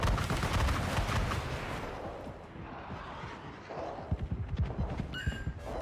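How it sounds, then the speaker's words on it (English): Missile impact in a naval combat video game, heard as a heavy rumbling blast that decays over a few seconds, followed by a series of sharp, near cracks and thuds with no talking. "Missile hit confirmed."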